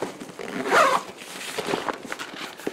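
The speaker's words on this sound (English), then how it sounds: "you can actually unzip the cover and pull it off" A zipper is pulled open on the seat cover of a Sevylor Rio kayak, one close rasping pull followed by softer fabric scraping, with no talk.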